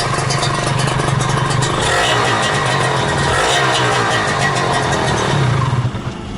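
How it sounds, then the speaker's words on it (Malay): A motorcycle engine runs steadily up close, loud and continuous with a rough idle and occasional light revs, no voices. "Korang dengar betul-betul bunyi enjin ni."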